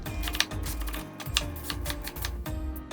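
Knife chopping cabbage for kimchi on a cutting board, a quick irregular series of close crisp chops and taps.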